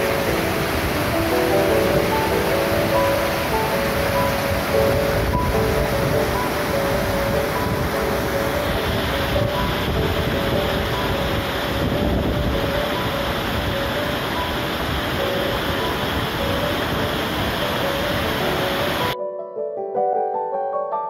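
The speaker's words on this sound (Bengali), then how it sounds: "এমনই একটা সুন্দর ঝর্ণা।" A mountain waterfall beside the road from Diskit to Turtuk roars as a steady, loud, broadband rush heard from nearby, continuous until it cuts off abruptly just before the end.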